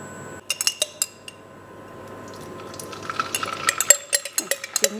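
Vegetarian mapo tofu being wok-cooked: metal utensils clink and scrape against the wok and pots in scattered, sharp taps, sparse at first and then busier and louder near the end, with no talking.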